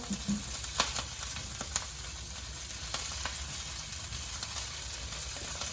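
Kale tossed in garlic and olive oil in a hot pan gives a steady, moderately loud sizzle, with a few brief clatters from stirring and no voices.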